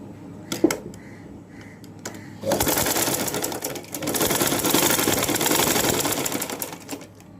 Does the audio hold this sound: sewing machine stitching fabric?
yes